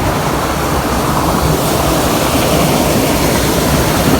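A forest waterfall in jungle near the Vietnamese border roars as a loud, dense, continuous rush of falling water, steady and close, with no other sounds standing out.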